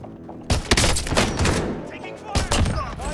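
Rapid bursts of automatic gunfire in Call of Duty Modern Warfare on Rebirth Island, loud overlapping shots in clusters with short pauses between them.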